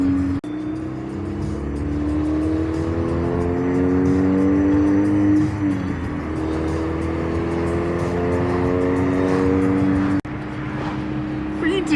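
Steady car engine drone while driving, its pitch rising and falling through gear changes over the whole stretch, close and continuous with a brief break near the end.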